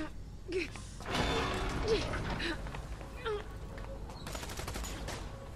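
A shootout in the video game Tales from the Borderlands brings bursts of gunfire and clattering impacts over game sound, with voices talking throughout.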